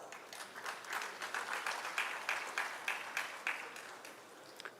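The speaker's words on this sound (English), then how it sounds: "now she deserves a big round of applause." Audience applause at a one-day state-level consultation program on child marriage, a steady patter of clapping from a hall crowd, moderate and sustained with no talk over it.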